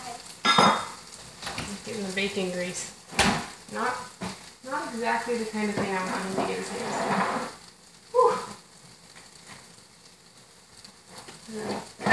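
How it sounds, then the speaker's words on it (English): Queso dip simmers in a pot with a soft bubbling sizzle and occasional clinks as it is stirred, while a voice talks quietly in the background. "it's simmering now"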